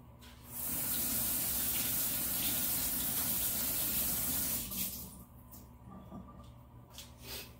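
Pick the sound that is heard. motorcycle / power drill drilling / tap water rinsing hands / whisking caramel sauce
tap water rinsing hands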